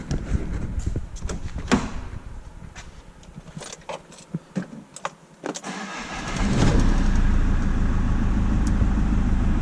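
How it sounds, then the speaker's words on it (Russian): An Iveco Daily van with a faulty injector cranks and fires after a few clicks and clunks, then settles into a loud, steady idle close by. "И что происходит, когда мы заводим машину?"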